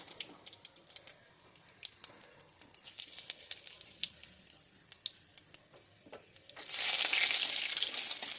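Nigella seeds and dried red chillies fry in a little oil with scattered crackling pops and ticks, then a sudden louder surge of hissing sizzle near the end.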